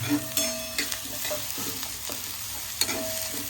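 Medium-sized onion frying in a pan until brown, a continuous sizzle with repeated scraping stirs of a spatula against the pan, close and clear with no talking.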